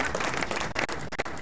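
A small group claps in a brief, lively burst of applause, close by and fairly loud, with a few sharper individual claps standing out near the end.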